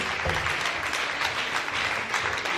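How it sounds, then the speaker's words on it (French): A church congregation applauding for Jesus during a worship service, a dense, continuous wash of clapping that fills the whole short moment. "Put your hands together beautifully for Jesus."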